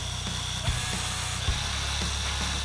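Power drill spinning in reverse while boring into MDF, a steady close mechanical whir with a couple of brief bumps.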